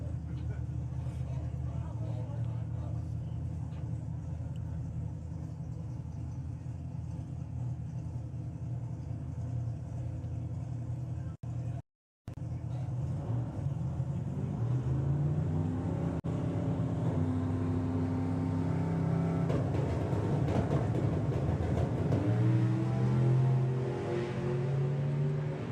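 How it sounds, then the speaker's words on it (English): A Plymouth Cuda on a drag strip sends a low, steady engine rumble that continues throughout, with a brief dropout midway and a commentator talking over it. "Well, nice run there for Mark Sheridan"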